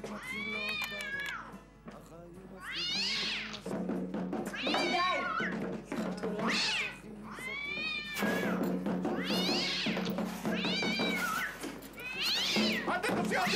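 A cat shut in a bathtub meows repeatedly and insistently, a series of loud drawn-out wailing cries in quick succession with brief gaps between them, close and echoing.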